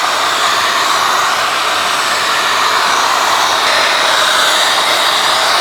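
A heat gun blows hot air over vinyl wrap film on a car fender, making a constant loud, airy whir that stays level from start to finish, with no talking.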